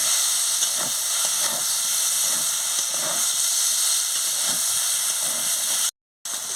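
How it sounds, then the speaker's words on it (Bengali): Brinjal frying with neem leaves in a pan makes a loud, steady, even hiss of sizzling oil, with faint crackles and one brief dropout near the end. No one speaks. "এবার আমি বেগুনটাকে নিম পাতার সঙ্গে ভালো করে ভেজে নিচ্ছি।"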